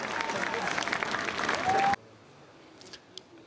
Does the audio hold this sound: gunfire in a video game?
no